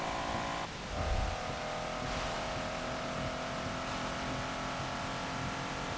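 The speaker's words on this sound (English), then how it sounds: "the blipping of the throttle is so real" A race car engine in a Forza racing game hums steadily at high revs, with a sharp throttle blip and dip near the start, then a sustained loud drone; no voices.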